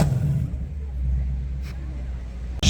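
A Porsche GT3 RS drives past in the street at Cannes, its engine a steady low rumble lasting a couple of seconds, with a brief sharper burst near the end.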